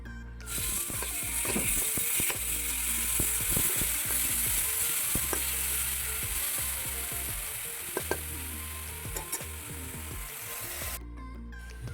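Spice paste frying in hot oil for an egg curry, a steady loud sizzle with scattered crackles and stirring scrapes, heard without any talking.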